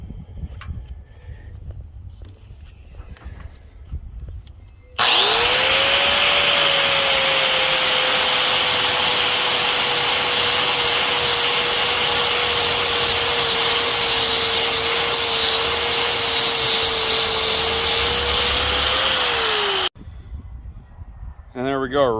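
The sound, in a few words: sanding disc grinding powder coat off a truck headache rack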